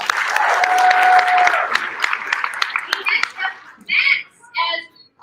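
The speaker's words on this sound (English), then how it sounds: "Give her a round of applause." A cosplay and crafts convention audience claps and whoops briefly, loud at first and then thinning into scattered claps, with voices calling out near the end.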